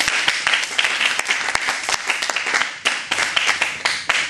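A church congregation applauds warmly, with dense, sustained clapping and a few sharper claps standing out throughout, loud and continuous from start to finish.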